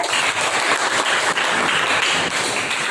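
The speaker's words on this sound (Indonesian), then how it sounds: "Tepuk tangan buat Nasika." A classroom of students applauds a classmate, a steady dense wash of clapping from many hands at close range, continuous and even for the whole stretch with no talk over it.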